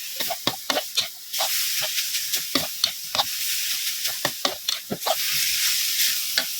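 Pork stir-frying for a spicy dried-chili basil stir-fry, sizzling steadily in a hot pan while a utensil scrapes and stirs in quick irregular strokes throughout.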